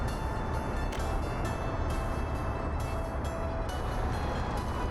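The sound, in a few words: steel freight train in video game Workers & Resources: Soviet Republic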